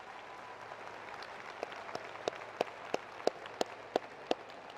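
Scattered clapping from a commencement audience, at first faint and sparse, then a run of sharper, distinct claps at a steady pace, heard at a distance in a large hall.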